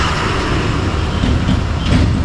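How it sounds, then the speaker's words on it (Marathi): A heavy vehicle rumbles loudly and continuously nearby, a deep engine drone with road noise filling the whole moment. "ट्रकचा आवाज आला तर सॉरी."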